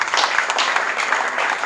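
Audience applause fills a room at a presidential dinner, a steady, dense clapping from many hands that carries on evenly without a break and with no voices heard.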